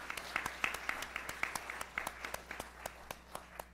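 Audience applause at a day program honoring advancement staff, a steady patter of many hands with a few louder individual claps standing out, fairly quiet and distant, no talking over it.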